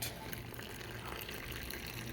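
Warm water pours steadily into a container as one continuous, moderately quiet liquid rush lasting about two seconds, heard alone.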